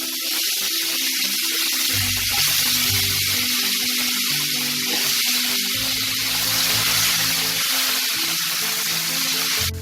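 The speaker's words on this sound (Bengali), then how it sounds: "লম্বা লম্বা করে সরু সরু করে কিছু আলু কেটে নিয়েছি, আলুগুলোকে আমি ভেজে তুলে নেব" Thin, long-cut potato strips fry in hot oil for an Asian olive barb fish curry, producing a loud, continuous bubbling sizzle with crackles throughout and no voices.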